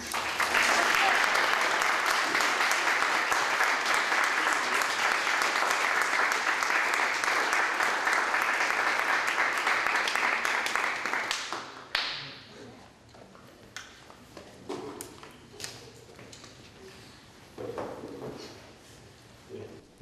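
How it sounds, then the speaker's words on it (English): A large audience applauds loudly and continuously for about twelve seconds, then the clapping breaks up into scattered claps and fades, with a few later bursts, at a school kickoff press event. "Let's give another round of applause to the Jones Foundation"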